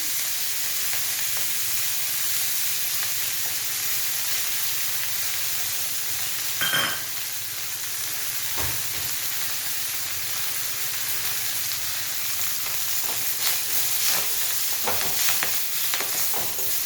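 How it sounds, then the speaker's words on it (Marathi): Finely chopped fenugreek leaves sizzle in hot tempering oil for a Maharashtrian dal, a steady close crackling hiss with a few clinks of stirring and no talk. "याच फोडणीमध्ये मेथी दोन बारीक चिरून घेतलेली"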